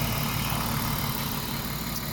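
A BMW E36 2.5i inline-six idles steadily up close during an oil change, a continuous low even drone with no talk over it.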